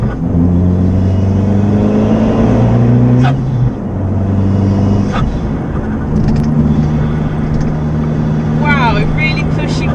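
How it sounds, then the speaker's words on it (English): A modified, remapped Abarth hot hatch of about 200 horsepower accelerates hard, its engine drone rising and falling through the gears, with a few sharp exhaust cracks from the pops-and-bangs tune, heard from inside the car. "This car also has pops and bangs mapped into it from Tony at Tune for Performance."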